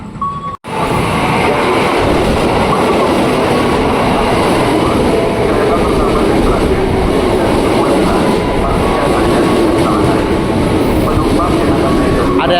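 A loud KRL Commuter Line electric train bound for Bogor rumbles and rolls steadily close by at Tebet Station for several seconds, with wheel and motor noise and faint station ambience.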